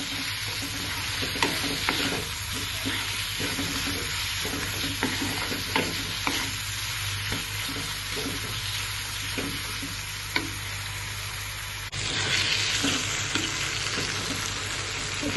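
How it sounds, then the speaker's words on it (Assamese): Ground coriander, cumin, turmeric and chili powder frying in oil for a mutton liver dish, a continuous close sizzle with scattered stirring scrapes and clicks, steady throughout with no talking. "মছলাখিনি অলপমান ভালকৈ ভাজি লম যেতিয়ালৈকে অইলটো ওলাই নাহে"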